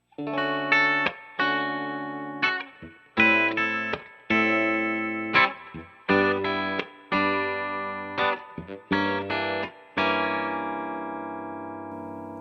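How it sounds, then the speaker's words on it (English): Clean electric guitar played through the neck pickup wired out of phase, in short strummed chords with pauses between, a thin, hollow, nasal tone with light effects and a final ringing chord. "And now the neck pickup out of phase."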